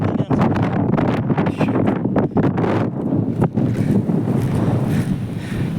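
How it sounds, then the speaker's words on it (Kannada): Cold wind blows hard on an outdoor trekking trail, buffeting the microphone with a loud, continuous roar that gusts and flutters throughout, with no speech over it. "ತಣ್ಣಗೆ ಗಾಳಿ"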